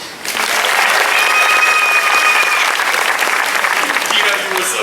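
A crowd applauds at a live bird show at Animal Kingdom with loud, sustained clapping that swells quickly and holds for several seconds before easing slightly.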